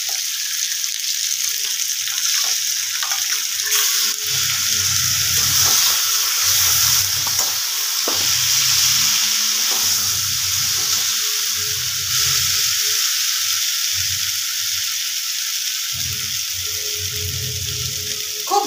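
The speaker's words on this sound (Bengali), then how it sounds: "বাটা মশলাটা দিয়ে দেব।" Ground spice paste for aloo dum frying in a pan, a steady loud sizzle and hiss throughout with soft rhythmic stirring scrapes underneath.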